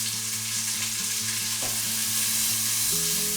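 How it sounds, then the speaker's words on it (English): A steady sizzle of onions frying in hot oil in a Crockpot Express pressure cooker, with a soft mechanical hum underneath; close and even throughout, no voices. "So what we want to do first is we want to try and fry the onions."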